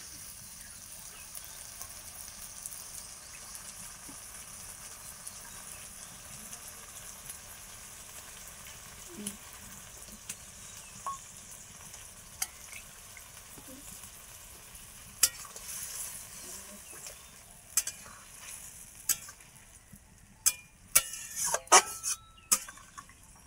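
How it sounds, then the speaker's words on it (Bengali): Mustard paste thinned with a little water bubbles and sizzles softly in a pan as it is stirred. A steady low frying hiss runs underneath, and sharp scraping clatters of the spoon against the pan grow busier toward the end. "বাটনাটা ফুটবে, না হলে সরষার গন্ধ করে।"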